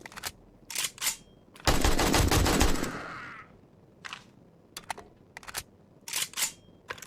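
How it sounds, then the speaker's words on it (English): Gunfire rings out as players shoot zombies from a horde base in the game 7 Days To Die: short clusters of sharp shots, one long rapid burst of about two seconds, then more scattered quick volleys, loud and close. "You just stand there and shoot all night long"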